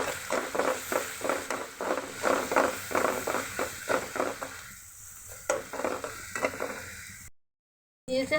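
Ground spices, turmeric, chili and ginger-garlic paste fry in oil in a pan, heard as a close, continuous sizzle under rhythmic stirring scrapes that ease off toward the end, followed by a brief silence.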